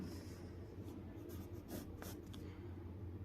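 Pen scratching on paper as equations are written out by hand in a 10th class math lesson, with faint strokes over a steady low hum.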